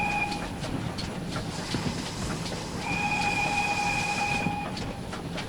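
Steam locomotive on the Dart Valley line running at speed, with a loud continuous rumble and clatter of carriages and two long sustained whistle tones, heard from on board.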